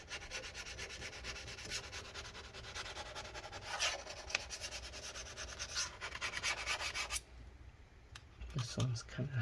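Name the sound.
scraping adhesive residue off MacBook Pro A1398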